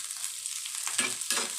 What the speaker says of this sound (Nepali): सिमला मिर्च पनि फ्राई गरिदिने एकछिन